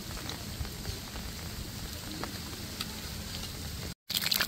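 Chicken bread pakoras deep-fry in hot oil with a steady, fairly faint crackling sizzle that holds evenly before a brief break near the end.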